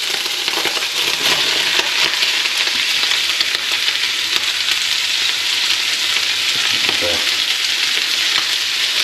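Vegetables for a Bolognese sauce fry in a hot pan with a steady, loud, close sizzle and crackle running unbroken throughout, with occasional stirring scrapes.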